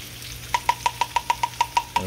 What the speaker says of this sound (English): take this gravy and stir in this milk